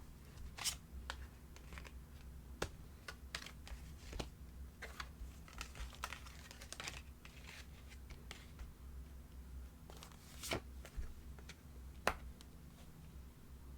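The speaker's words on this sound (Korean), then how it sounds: "우리 1번 분들을 위한 7월달 연애운 행운의 아이템을 포함해서 조언 카드 같이 뽑아볼게요" Tarot and oracle cards are handled, shuffled and drawn during a reading. Scattered soft snaps, flicks and taps of card stock sound close but quiet over a low hum, with no talking.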